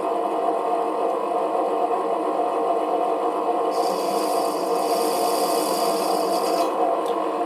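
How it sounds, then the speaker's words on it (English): A 7x16 mini lathe hums steadily, and a brighter scraping, rasping cut joins for a few seconds as a 45-degree chamfer is turned on the workpiece edge, then fades back to the motor's drone. "we'll turn the lathe on now and make that chamfering cut"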